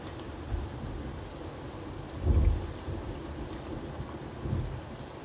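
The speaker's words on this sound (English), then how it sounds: "It seems like we got ourselves a thunderstorm in the game now." Low, rolling thunder in the video game Sons Of The Forest rumbles in three swells, the loudest in the middle, over a steady wind-like hiss with no voices.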